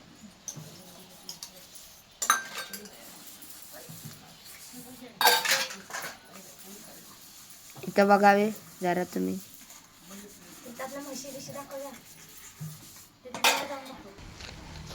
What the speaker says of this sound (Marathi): मम्मी भांडी घासते